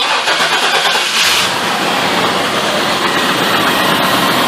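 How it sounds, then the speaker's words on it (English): A 1996-2000 Chevrolet Tahoe engine cranks and catches, then settles into a steady, loud idle that runs without a break to the end, indoors. "It's way too hot to be running this truck in here, but I'm just going to do it for a few seconds."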